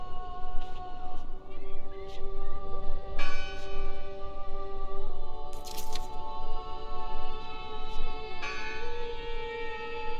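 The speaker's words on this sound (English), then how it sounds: "Listen! The bell! They're still in there!" A church bell tolls in the horror game Draugen, sustained ringing tones decaying and overlapping with fresh strikes, loud and resonant over a dim ambient bed with a few clanks.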